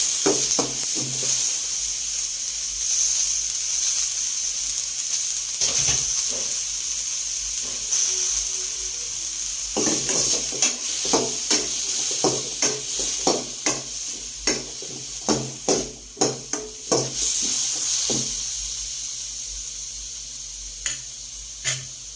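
Tomatoes stir-fried in a frying pan: a steady loud sizzle and hiss runs throughout, with repeated scraping and clacking stirring strokes growing quicker and sharper toward the middle and end, no voices.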